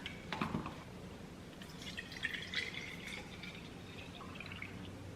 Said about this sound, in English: I'm gonna pour the milk in